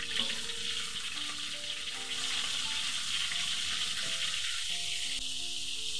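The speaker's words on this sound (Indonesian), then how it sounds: "Saya ya masukkan dahulu ini ikan masinnya sahabatku semua supaya dia masak." Salted fish fries in hot oil in a pan, a continuous close sizzle and crackle with faint clinks now and then.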